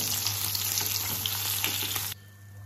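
Small tangra fish fry in hot oil with a loud, continuous crackling sizzle that stops abruptly near the end, leaving a quiet room hum.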